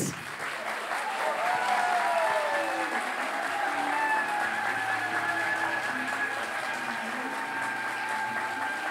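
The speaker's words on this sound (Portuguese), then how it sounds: "vamos receber com aplausos, agora sim podem ser calorosos, não é? Doutor Leandro Teles." Warm audience applause in an evening lecture hall, greeting a doctor arriving to speak on depression; steady, dense clapping fills the room throughout, with faint tonal hum and murmurs underneath.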